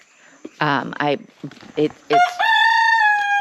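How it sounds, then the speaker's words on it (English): A few short squawking calls lead into a loud, drawn-out rooster crow close by, held steady for about a second before it breaks off. "It's way too chaotic with 6 roosters"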